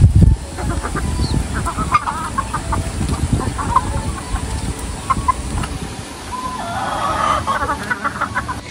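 Chickens cluck and squawk in a busy flock, with repeated calls over a noisy outdoor background and a louder burst of cackling near the end.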